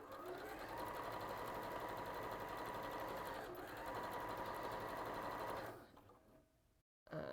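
A sewing machine stitching a seam runs in a steady, fast rhythmic whir close by, briefly pausing midway, then slows and stops near the end.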